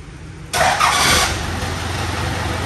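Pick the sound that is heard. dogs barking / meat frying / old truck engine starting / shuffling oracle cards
old truck engine starting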